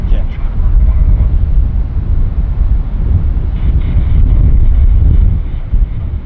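Strong gusty wind buffets the microphone outdoors at an airport, a steady low roar that runs continuously and loud through the whole stretch with no pauses.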